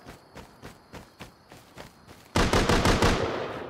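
Gunfire in the survival video game Rust: a string of sharp single shots at a steady pace, then a much louder, denser burst of rapid fire near the end.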